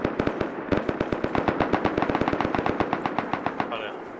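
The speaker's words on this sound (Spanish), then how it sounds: "Disparan con silenciador." Rapid automatic gunfire in the video game Rust rattles out as a long, dense burst of evenly spaced shots, loud and close, with a brief gap near the start.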